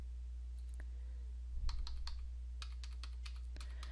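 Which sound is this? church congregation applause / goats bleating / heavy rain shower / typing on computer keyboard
typing on computer keyboard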